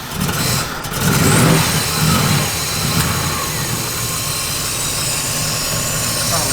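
A 1969 Chevrolet Malibu restomod engine starting and running, a loud rumble swelling briefly then settling into a steady idle, with a bright broadband hiss over it and no speech.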